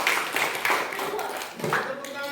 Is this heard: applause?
yes